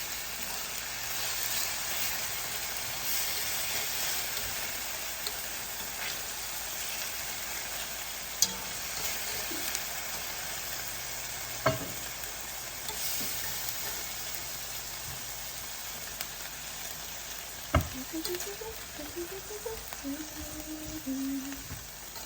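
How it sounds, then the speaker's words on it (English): Onions sautéing in a pan for oxtail gravy, giving a continuous, even hiss of sizzling with a few scattered clanks, heard from a moderate distance. "so I'm just gonna saute my onions and get those prepared"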